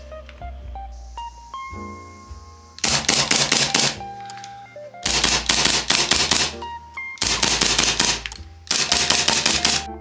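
A custom competition speedsoft Hi-Capa airsoft pistol is test fired in four rapid, loud bursts of sharp clattering shots, each burst separated by short pauses.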